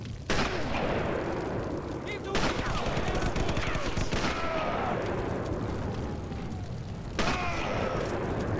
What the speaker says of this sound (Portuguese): O cara errou todos os tiros.